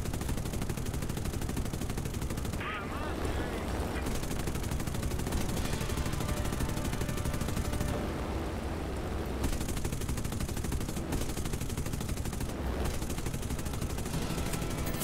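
Aircraft guns fire in sustained, dense bursts through a War Thunder air battle, a loud continuous rattle of gunfire with brief pauses and engine roar filling the background throughout.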